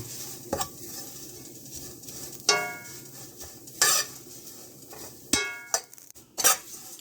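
Coconut toasting in a pan is stirred steadily, with a soft sizzle underneath and several sharp clinks and scrapes of the utensil against the pan at irregular intervals, close up.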